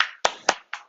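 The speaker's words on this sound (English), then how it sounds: "Give yourself a clap." Hand clapping at a home workout session, four crisp, separate claps in quick, regular succession, close and dry with brief silence between each.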